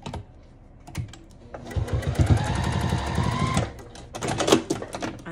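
A sewing machine backstitching a seam on a zipper pouch, a close, rapid mechanical whir of stitches lasting about two seconds, framed by quieter handling clicks and rustles of fabric.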